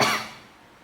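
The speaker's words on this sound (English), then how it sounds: "I'll edit out some of this coughing" A single short cough, close and fairly loud, trailing off quickly into quiet.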